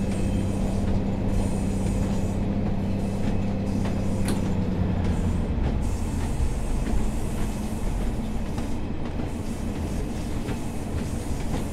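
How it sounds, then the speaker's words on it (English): Train wheels grinding and squealing in Train Sim World 4 on the Blackpool Branches line, a steady loud rolling rumble of rail carriages with a thin high squeal over it, continuous throughout with no voices. "Flange squeal there."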